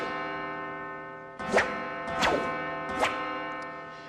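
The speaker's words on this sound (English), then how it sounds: "So we have an acquire start, which is a whip whoosh and a bell tolling." Overwatch McCree's acquire-start cue in a video game: three soft whooshing swells, each carrying a ringing metallic bell-like tone, set over a sustained tonal drone.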